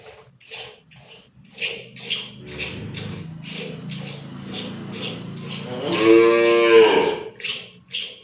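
On a dairy farm, a cow that has recently calved lets out a loud, drawn-out moo near the end, following a stretch of soft rhythmic barn noises.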